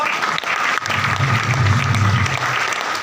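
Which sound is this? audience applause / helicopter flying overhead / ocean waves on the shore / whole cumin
audience applause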